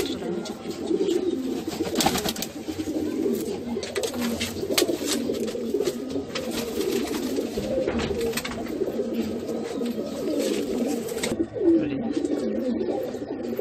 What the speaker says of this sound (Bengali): এটা ধাড়ি পায়রা ক্লিয়ার